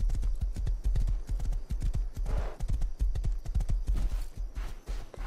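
Horse hooves clip-clop at a quick, steady gait in the video game Rust, loud and close, with each hoofbeat sharp and evenly spaced and faint game ambience underneath.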